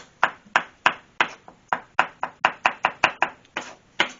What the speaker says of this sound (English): And we're just going to chop this up, because we don't want any of those long strands.